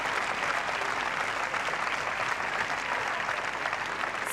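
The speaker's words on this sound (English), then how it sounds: "Huge roar came up when she won that second set" A tennis crowd roars with sustained applause and cheering after a player wins the second set against Venus Williams, a dense, steady wash of clapping throughout.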